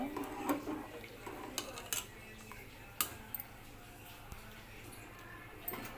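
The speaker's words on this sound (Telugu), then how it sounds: "సగ్గుబియ్యం అయితే వేసుకుంటూ కలుపుకోవాలన్నమాట ఇట్లా కలుపుకోవాలన్నమాట" A spoon scraping and clinking against a cooking pot while sago pearls are stirred for sago vadiyalu, with soft intermittent taps and scrapes at an uneven rhythm under a low background hum.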